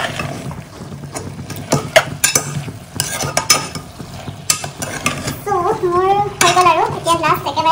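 Pork with bamboo shoot is stirred in a pot, producing loud, close, repeated clanks and scrapes of a utensil against metal amid sizzling, and a person talks near the end.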